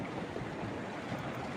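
Faint, steady rushing and bubbling of water gushing at a volcanic sulfur spring, heard at a distance as an even wash of noise with no voices.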